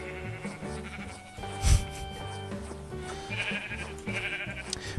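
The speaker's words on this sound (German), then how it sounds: "Das sind normale Schafe." Sheep in the video game Minecraft bleat several times in short repeated calls over steady game music, fairly loud and with no talk.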